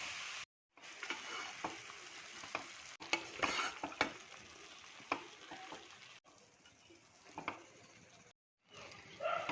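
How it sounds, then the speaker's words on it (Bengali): Shredded cabbage is stirred in a frying pan for a Bengali cabbage ghonto, with close scraping strokes and bursts of sizzle between brief silent gaps. "কপিগুলো দিয়ে আমি ভালো করে নেড়ে নিয়েছি"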